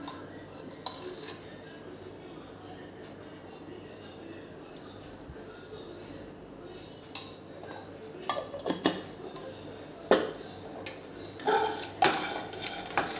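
Panjiri dry-roasting in a pan with a little ghee, a spoon stirring and scraping against the metal in soft scrapes, with sharper clinks that grow louder and more frequent toward the end while someone speaks.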